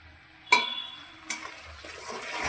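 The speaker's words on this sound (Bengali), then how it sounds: "এবার মশলাটা তেলের সাথে কষিয়ে নেব।" Spice paste of ginger, green chilli, cumin, coriander, turmeric and tomato hitting hot mustard oil in a pan, with two sharp clattering strikes followed by a soft, steady sizzle building underneath.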